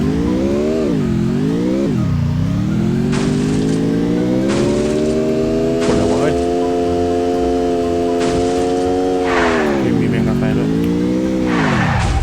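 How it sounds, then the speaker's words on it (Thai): Car driven in a mobile video game, a loud continuous engine drone rising and falling in pitch with brief tire-squeal bursts, while a voice talks over it. "ขอขึ้นรถก่อน รถยังไงเอ่ย F ขับรถไปแล้วไปแล้ว"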